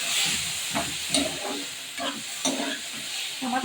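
Tomatoes for a coriander chutney sizzle and fry in a pan while a spoon stirs them in short scraping strokes, a close, steady hiss broken by regular bursts of stirring.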